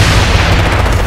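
A tank is shot and destroyed in Ghost Recon Future Soldier, heard as a heavy, continuous roar of explosive booms and artillery-like gunfire, loud and close, filling the whole moment.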